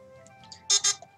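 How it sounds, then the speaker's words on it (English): A phone ringtone sounds as two short, bright electronic bursts in quick succession, after a few faint tones, in an otherwise quiet room. "Sorry, that's my phone."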